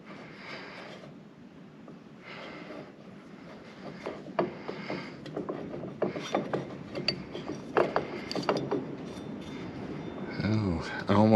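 Close metallic ratcheting and clicking as a set screw is tightened on a Fehr manual garage door chain hoist, with irregular bursts of tool and chain rattle and a voice speaking at times.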